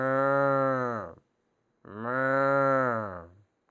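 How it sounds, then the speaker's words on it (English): A cow gives two long, loud, sustained moos with a short silence between them, plain and isolated in a children's farm-animal science lesson. "The cows were mooing"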